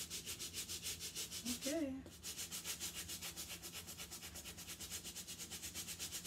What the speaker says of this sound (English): Just a little light soft scrub.